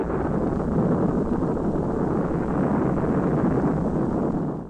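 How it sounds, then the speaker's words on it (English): Rocket engines carrying the space dog Laika roar at launch, a dense, steady broadband rumble that holds loud and unbroken for the whole stretch before easing slightly at the very end. "the engines roared to life"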